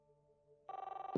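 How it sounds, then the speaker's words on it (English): A telephone rings in the video game Life Is Strange, a loud electronic trilling bell that starts abruptly after a quiet room tone and pulses in rapid repeated bursts, with a sharp clunk at the end like the handset being picked up. "And there's the phone call."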